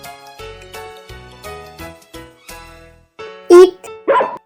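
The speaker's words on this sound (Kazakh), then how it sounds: "Ит." A dog gives two loud, sharp barks near the end, following a stretch of soft musical tones in a children's Kazakh alphabet lesson.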